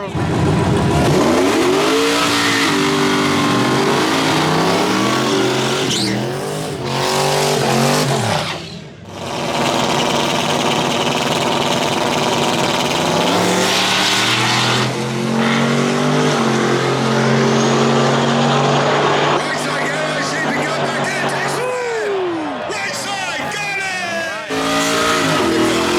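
Turbocharged racing trucks, a Turbo S10 and a Silverado, roar and rev at a drag-style truck racing event, engines loud and continuous with rising and falling pitch sweeps, a brief dip midway, and a crowd or voices under the din.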